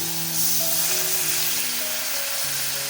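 A beetroot lip balm mixture sizzles and hisses steadily as it heats in a hot pan on the stove, a close, even frying crackle over soft background tones, with no talking.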